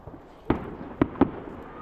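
Fireworks burst in a string of four sharp booms, spaced unevenly and fairly close, over a low steady background rumble.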